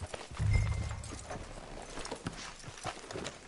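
Horse from Red Dead Redemption 2 clip-clopping at a walk, with a short low whinny near the start, then uneven hoof falls continuing quietly.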